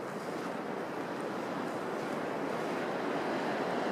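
Creek water flowing beside the Sealers Cove campsite at Wilsons Promontory, Victoria, Australia, a steady broadband rush of moving water with some wind, continuous and even throughout.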